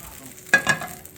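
Meatballs drop into a hot pan and fry, giving two sharp bursts of sizzling that flare up close and loud, then settle into a low, steady hiss.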